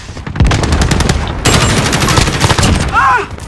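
Sustained automatic gunfire from Modern Warfare rattles loud and close in dense rapid bursts, a brief dip before a second volley, with a short vocal sound near the end.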